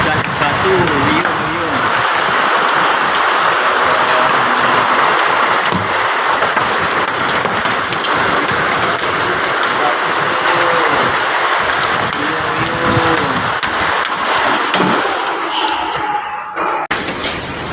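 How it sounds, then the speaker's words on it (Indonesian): Hail falls with heavy rain and strong wind in Surabaya, East Java, a dense roaring hiss of ice striking surfaces throughout, with excited voices calling out intermittently over the storm. "Hujan es batu lur, wiyung lur."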